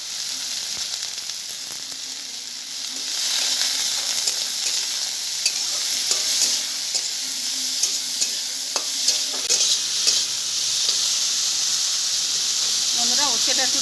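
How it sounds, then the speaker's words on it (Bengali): Bitter gourd frying with salt and turmeric in a pan gives a steady hiss and sizzle throughout, getting a bit louder partway in, with occasional stirring scrapes and clicks. "আমরা উচ্ছে একটু লবণ একটু হলুদ দিয়ে ভেজে নেব।"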